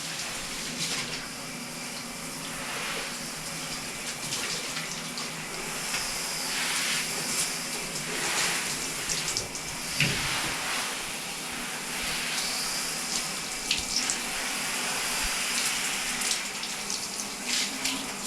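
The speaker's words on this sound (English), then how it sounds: "You want to rinse your shower walls off." Water sprays steadily against shower walls and shelving to rinse off soap, a continuous close hiss with brief splashy surges and no voices.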